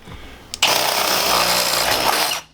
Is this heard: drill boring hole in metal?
yes